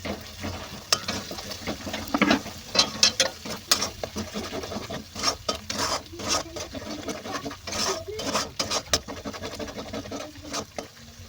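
Spices mixed with Kashmiri red chilli and a little sugar in a pan for a restaurant-style vegetarian dish, a steady close stirring scrape with light sizzling and irregular clinks throughout.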